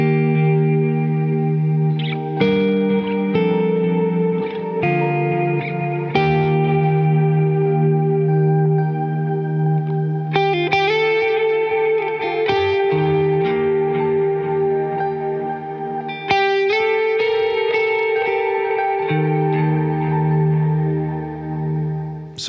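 Electric guitar through a Bogner Mini amp with a Hologram pedal plays a loud, close sequence of sustained chords and picked notes, each swelling with shimmering modulated, echoing tails over roughly twenty seconds of uninterrupted playing.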